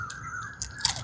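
Short, close bites into a crunchy fried snack, two or three crisp crackling crunches in quick succession with no talking.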